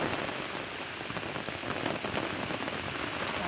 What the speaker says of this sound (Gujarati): ગાયું બેઠી હતી અને પાછી વરસાદે બાકા ચીકી બોલાવી દીધી છે.